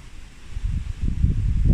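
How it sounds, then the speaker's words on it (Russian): Wind gusting through leaves, a low rustling roar that swells in uneven gusts and grows louder toward the end, with microphone buffeting and no voices. "Такой ветер сегодня."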